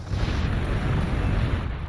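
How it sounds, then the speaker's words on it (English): Battle cannon fire in a Space Marines strategy video game: a loud, sustained booming roar with rumbling blast noise, heard alone and without a break for the full stretch. "Battle Cannon is doing damage though."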